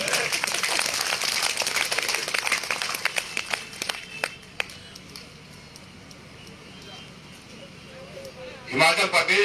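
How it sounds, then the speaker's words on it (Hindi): Applause from an audience at a political rally addressed by Himachal Pradesh Chief Minister Jai Ram Thakur in Jaisinghpur, dense clapping that gradually thins into scattered claps, with a fresh burst near the end. "60 लोग ताली बजा रहे हैं।"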